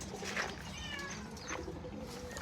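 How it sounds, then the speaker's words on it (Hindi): Cats sitting on the floor of a pigeon-keeping area give a few soft, drawn-out meows over a steady low background murmur, close by and fairly quiet. "यहाँ पर हमारी बिल्लियाँ ज़मीन पर आकर बैठ चुकी हैं।"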